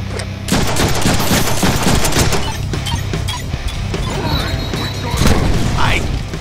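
A large gun in the Deadpool video game fires in loud, rapid continuous bursts, dense and crackling with booming low end, dominating the mix.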